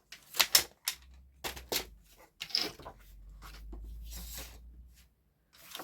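Paper being folded and creased by hand for a handmade Christmas mini album, heard as a run of crisp close snaps and rustles with scrapes and a low soft rub in between.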